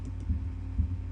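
The F3 key pressed on a computer keyboard in 3DS Max, two soft clicks about half a second apart over low hum.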